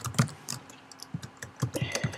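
Someone types a Terminal command on a computer keyboard, an uneven string of light key clicks at close range that pause briefly midway and then resume, with no talking.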